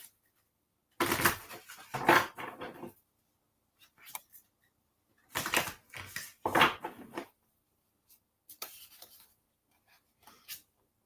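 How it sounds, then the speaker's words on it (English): Tarot cards are shuffled by hand in quick, papery riffling bursts separated by short pauses. The bursts are close but fairly quiet. "Couple more shuffles."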